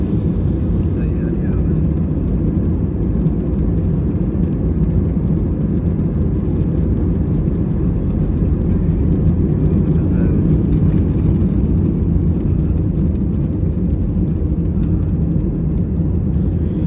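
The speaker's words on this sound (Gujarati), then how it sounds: "હવે આ ટૂંક જ સમયની અંદર પ્લેન ટેક ઓફ થશે" Steady, loud roar of airliner engines heard from inside the cabin on a flight from Vadodara, a dense continuous drone with no breaks.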